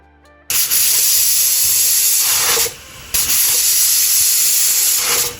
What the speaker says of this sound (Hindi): तो विसल आ गई है।